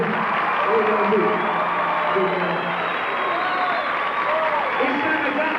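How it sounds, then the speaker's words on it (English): Steady, dense applause fills a high school auditorium during a 1987 hypnotism show, continuous crowd clapping with faint cheering and voices mixed in underneath. "Let's give them some applause."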